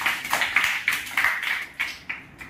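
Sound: children clapping for classmate Pawan

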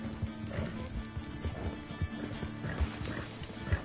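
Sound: horse hooves while riding in video game Red Dead Redemption 2

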